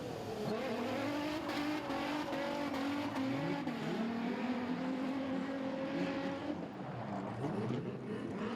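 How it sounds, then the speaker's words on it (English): Street stock race cars roar around Toowoomba Speedway during a national title A-main, engines droning loudly and continuously with shifting pitch as the cars race past, no talk heard. "Nello and Barry are going to burn it down on the back straight away"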